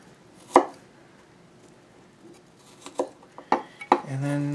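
Knife strikes on a cutting board while a shallot-like aromatic is sliced and minced, a lone chop early then a quick run of close, sharp taps, followed by a brief clatter of utensils.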